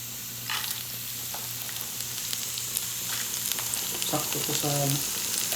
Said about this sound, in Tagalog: Ipiprito lang natin to ng chicken ay.